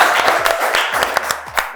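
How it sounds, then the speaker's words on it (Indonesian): An audience at a student volleyball competition claps for their lecturers in a short burst of loud, distinct claps, fairly close and a little irregular. "Tepuk tangan juga untuk dosen-dosen kita."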